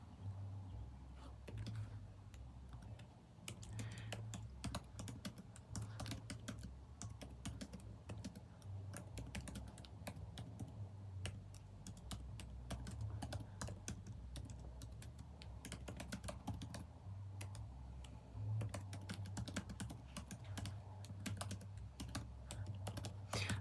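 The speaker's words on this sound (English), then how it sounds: "what I'm typing in right now in my notes" Quiet, steady typing on a computer keyboard while entering notes about grading fellowship applications, with rapid irregular key clicks running continuously and close by, with no talking.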